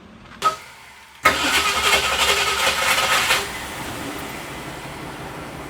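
A 1965 Ford Mustang, just fitted with upgraded disc brakes, cranks briefly and catches. Its engine then revs loudly for about two seconds and settles to a steady close idle, with no talking.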